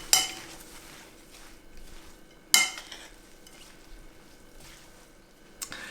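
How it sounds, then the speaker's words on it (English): Latke batter of potatoes and leeks being stirred in a bowl, soft wet squishing and scraping with two sharp clanks of a utensil against the bowl, quiet and close. "Give that a thorough mix, and we'll be ready to fry in a moment here."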